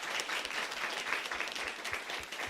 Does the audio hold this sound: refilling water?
no